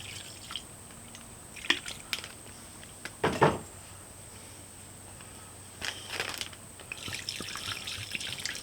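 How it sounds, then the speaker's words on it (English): Four ounces of soy sauce poured into a bowl over brown sugar for bourbon chicken, heard as a few brief, soft liquid splashes and trickles spread across an otherwise quiet kitchen. "We're going to pour 4 ounces of soy sauce in there."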